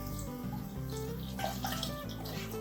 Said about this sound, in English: Now we're going to pour this 8 cups in here.